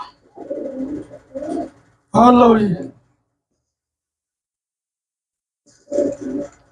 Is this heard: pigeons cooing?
yes